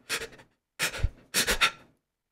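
A voice imitates anxious, heavy breathing: three loud, breathy pants close to the microphone, each separated by a short pause, with nothing else around them.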